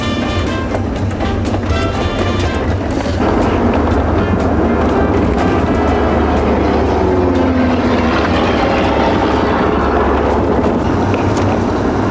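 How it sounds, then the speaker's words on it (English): A small Mooney airplane in flight, a loud, constant engine drone with steady rushing wind noise throughout, the tone growing fuller partway in, with no voices. "Let us take you up in this small Mooney airplane, and we'll get up above the ground, above the clouds"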